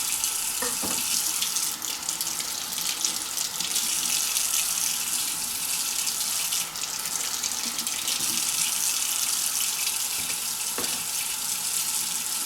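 Tap water runs steadily into a kitchen sink, rinsing away tomato seeds and pulp, a loud continuous splashing rush close by with no voices.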